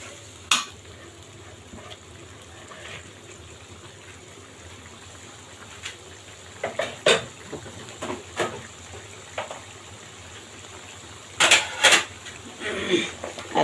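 Dried loitta fish curry stirred and fried in a pan, a quiet steady sizzle broken by scattered scrapes of the spoon, with denser clusters of stirring strokes toward the end.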